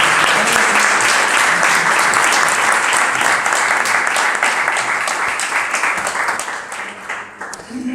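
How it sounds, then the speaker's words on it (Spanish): An audience at a debate on hate crimes breaks into loud, dense applause that holds steady for several seconds before thinning out toward the end. "Un aplauso,"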